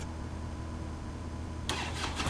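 A motorcycle engine turns over and catches, settling into a steady mid-pitched running note, then rising with a louder, rougher burst near the end, close by with no talk.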